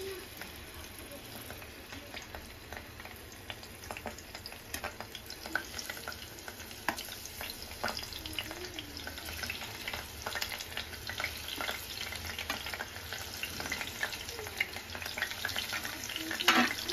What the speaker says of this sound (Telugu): నార్మల్ హీట్ అయిన తర్వాత పన్నీర్ తీసుకొని ఒక్కొక్కటిగా వేసుకుందాం